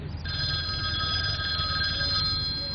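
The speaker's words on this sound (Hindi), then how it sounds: "मोबाइल" A mobile phone rings with a steady electronic tone, continuous and fairly loud against a low background hum.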